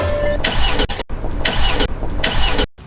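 A mechanic repeatedly cranks a car engine that will not start, giving three loud bursts of starter whirring and engine churn separated by short pauses, close and with no talking.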